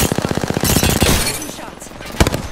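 Gunfire in Apex Legends, a rapid burst of repeated shots opening the moment, then a single sharp shot near the end, loud and close amid game sounds and a voice talking.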